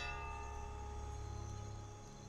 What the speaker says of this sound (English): Who's rung the bell and why?